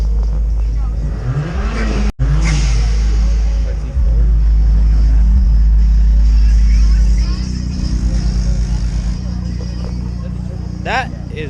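An IS300 with a worn starter cranks at a San Diego car meet, then its engine catches and settles into a loud, rough idle and revs nearby, while voices talk over the rumble throughout.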